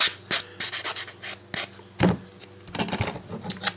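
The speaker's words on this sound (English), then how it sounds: "Then we'll take a sanding block, of which I keep several different size grits handy." A sanding block rubs against plastic parts for a model railroad background building, making close, scratchy strokes in uneven bursts with brief gaps between them and no speech.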